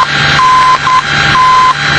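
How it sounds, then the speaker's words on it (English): VOR navigation beacon Morse ident TNT over aircraft audio, loud steady tones sounding dash, dot, dash in clean on-off pulses above faint cockpit hum. "listen for the Morse code ident for TN"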